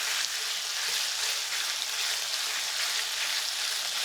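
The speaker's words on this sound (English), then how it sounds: "And you just stir this till it's like almost cooked?" Beef and chayote cooking in a pan, a dense continuous sizzle and hiss heard up close with faint stirring, no talk during it.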